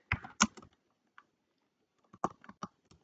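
Quiet computer keyboard typing in short bursts of clicks separated by a pause, close and faint, with no voices.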